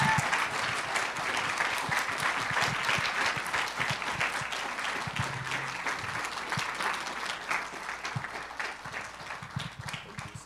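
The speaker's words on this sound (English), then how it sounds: "give him a round of applause" An audience at a pastor appreciation service claps and applauds continuously as pastors are called to the stage, a dense steady wash of many hands at a full level that eases slightly toward the end.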